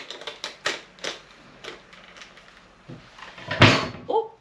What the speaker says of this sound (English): didn't mean to slam the door there